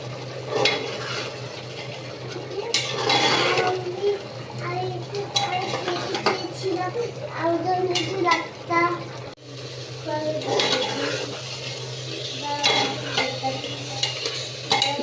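Meat being stirred and sautéed in a pot, with repeated metal spoon scrapes and clinks against the pot over a low sizzle and a steady hum; a voice talks in the background.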